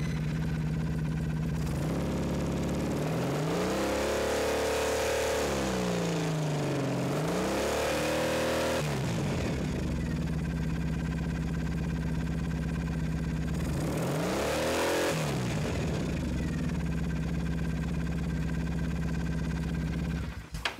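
Triumph Thruxton 900 motorcycle fitted with a bypass regulator kit, idling steadily with two strong revs that rise and fall back to a smooth close idle.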